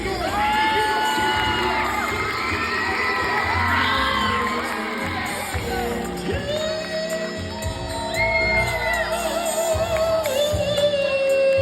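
A crowd of children at a school drug-free assembly cheers, whoops and shouts continuously and loudly, with music-like tonal lines running through the noise and a swell of cheering in the second half.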